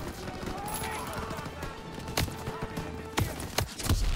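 Scattered gunfire in the Call of Duty: WWII campaign on Veteran mode, a few sharp distant shots cracking over a low murmur of battle ambience, with two or three louder reports near the end.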